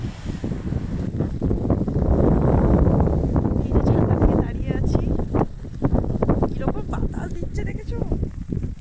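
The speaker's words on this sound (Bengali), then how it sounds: "চারিদিকে কুয়াশার মতন বৃষ্টি পড়ছে আর প্রচণ্ড বাতাস দিচ্ছে ছাতাটা ধরেই রাখতে পারছি না আমি" Strong gusty wind blows through misty rain during a flood: a loud, rushing roar that swells and eases, partly covering a person's voice heard in bursts.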